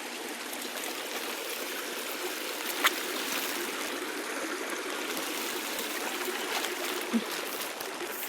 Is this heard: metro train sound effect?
no